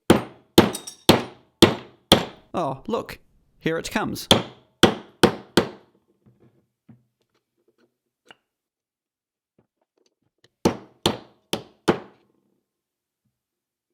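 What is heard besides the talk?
hammering on Lucas starter motor case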